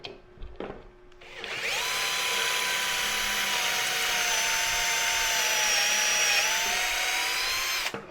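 A power drill set to a torque setting bores pocket holes into wood through a pocket-hole jig while building a bathroom cabinet. After a few faint knocks, a loud, steady high whine runs for about six seconds and then cuts off.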